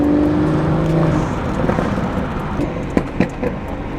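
A BMW with a B58 engine and breaking-in intake and exhaust, its engine droning steadily at close range with a few sharp pops and crackles near the end.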